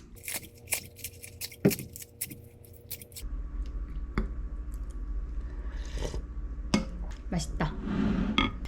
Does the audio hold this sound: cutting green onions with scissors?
yes